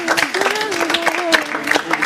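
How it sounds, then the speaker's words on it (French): Audience applause fills a French-language arts stage show: a steady, dense patter of clapping across the whole stretch, with a voice or music carrying over it. "On applaudit très fort, s'il vous plaît."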